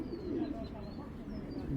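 A female Thor pigeon coos softly and repeatedly, its low, throaty calls running steadily under a murmur of nearby background noise.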